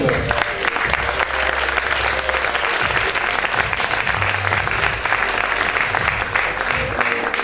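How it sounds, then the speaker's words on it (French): Audience applause for pageant candidates at a Miss Aisne results ceremony, steady dense clapping throughout, loud and continuous, with a low hum underneath. "Merci de les applaudir à chaque fois"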